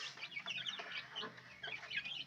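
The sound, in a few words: day-old chicks in brooder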